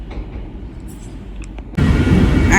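Inside a Paris train, a low steady rumble hums at first, then the noise jumps abruptly to a louder, fuller roar as the carriage runs on, with no voices.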